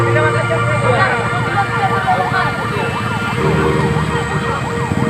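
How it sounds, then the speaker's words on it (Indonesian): An ambulance siren wails in a fast, steady up-and-down sweep, loud and close, as the ambulance passes through traffic on a badly damaged provincial road in Simalungun, North Sumatra, with a low traffic rumble underneath. "Jadi ini aksinya terpaksa kita hentikan sebentar demi ambulans teman-teman."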